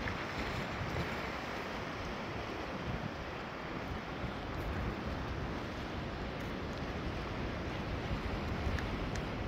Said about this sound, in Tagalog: Di ba malaki alon oh.